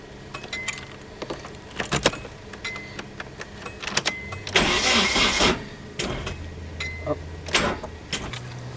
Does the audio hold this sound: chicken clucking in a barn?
no